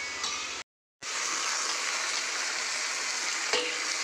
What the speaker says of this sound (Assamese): এওঁ ভাজি বনাইছে দেই